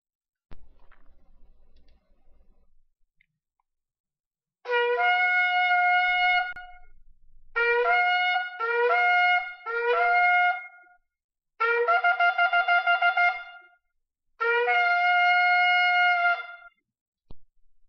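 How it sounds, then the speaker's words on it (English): A shofar blown in a series of separate calls with short silent gaps, a long blast, several shorter ones, then two more long blasts, clear and close. "we're going to play the shofar today"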